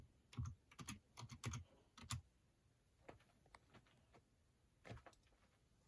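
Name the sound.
typing on a computer keyboard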